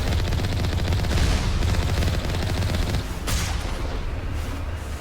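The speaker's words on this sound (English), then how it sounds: "Oh, those are giant cannons." Giant cannons fire in the video game Mass Effect, a loud, continuous barrage of heavy booming blasts that stays dense throughout, easing slightly toward the end.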